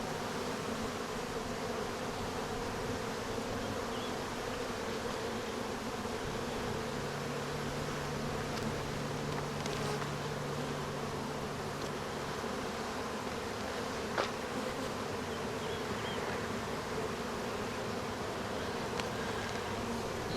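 Honey bees buzz continuously and fairly loudly from an open hive while frames are inspected and a split is made, a dense steady drone with occasional brief clicks and knocks.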